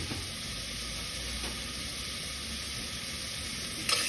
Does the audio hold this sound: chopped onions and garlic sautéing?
yes